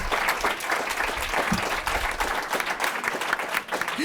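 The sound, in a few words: audience applause at speaker series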